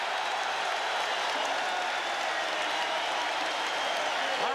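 Boston Garden-style arena crowd at a 1987 Lakers–Celtics NBA Finals game roars and applauds steadily, a dense, continuous wash of clapping and cheering heard from a distance without letup.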